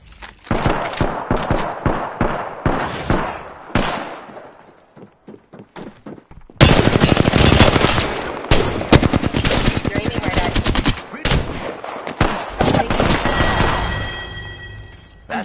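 Rapid automatic gunfire from an Apex Legends match, dense bursts of shots crackling close and loud, with a short lull mid-clip before a sustained, heavier barrage erupts and continues to the end.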